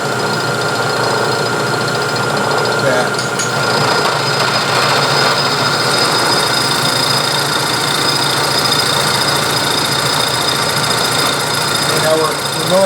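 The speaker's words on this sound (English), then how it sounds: "Now we're milling on the back side." A milling machine climb mills a slot on the back side of a carriage stop body with a shallow cut, giving a loud, steady whine and rumble that holds unbroken throughout.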